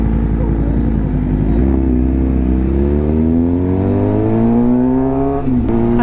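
A Suzuki GSX-R 600 sport motorcycle with modifications accelerating hard at full throttle. The engine note climbs loud and steady through the rev range, with a brief dip near the end as it shifts before pulling again.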